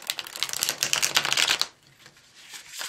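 A deck of Emily Dickinson Tarot cards is shuffled, a dense riffling flutter lasting over a second that stops abruptly, leaving quiet room noise.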